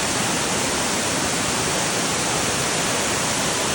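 A waterfall on Mt Shasta throws up splashing mist, heard as a constant, loud, unbroken roar of falling water with no other sounds over it.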